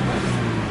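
The engine of a 2013 Subaru Legacy with 93K miles runs steadily nearby, a smooth, even hum with no revving over the short span.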